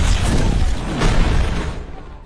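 Rapid gunfire and booming blasts blend into a dense, loud roar that stays continuous and then thins out toward the end.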